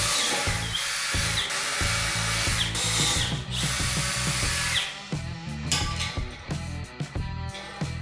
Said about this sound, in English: then drill those 16 holes